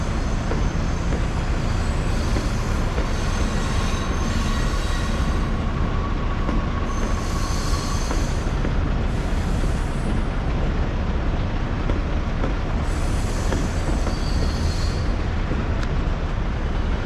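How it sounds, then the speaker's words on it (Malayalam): A train passes along the tracks below an overpass at a Chicago train station, producing a continuous loud rumble and roar with faint wheel squeals for the whole stretch. "ഷിക്കാഗോയിൽ ട്രെയിൻ പോകുന്ന ട്രെയിൻ സ്റ്റേഷനാണിത്."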